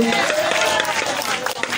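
Audience applause and cheering at a political campaign speech for a council chairman candidate, a dense continuous wash of clapping filling the whole moment, loud and close, with crowd noise blended in.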